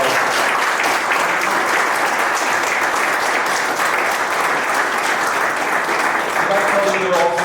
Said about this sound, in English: How about a nice warm round of applause?